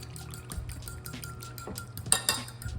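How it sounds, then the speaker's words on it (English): A spoon scrapes the sides of a bowl and mixes French toast batter, making quiet wet stirring and scraping sounds with a couple of sharper metallic clinks near the end. "So I'm just gonna take that spoon, get all the extra off and mix that in as well."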